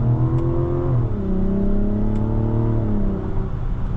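A 2024 Mazda CX-90 3.3 Turbo S engine accelerating, a smooth, steady hum that rises in pitch, dips as the gear shifts, then climbs again, heard from inside the cabin with no talk.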